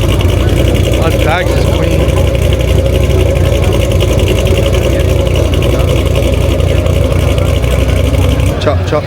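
A car engine with a choppy idle rumbles loudly and close at a small car meet, giving a steady, uneven low throb throughout.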